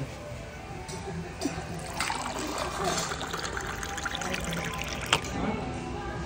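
Drinking water trickles and pours steadily into a container at a mukbang restaurant table. The sound is soft and sits under nearby chatter and background voices.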